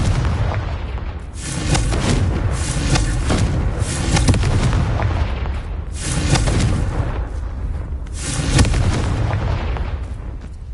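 Confringo blasting spell explosions in the Hogwarts Legacy video game, four loud, booming blasts spaced roughly two to three seconds apart, each with a rumbling, crackling tail over continuous low background noise.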